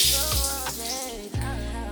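Water runs steadily from a bathroom tap while a towel is wetted under it, a continuous close hiss and splash with brief dips as the flow is interrupted.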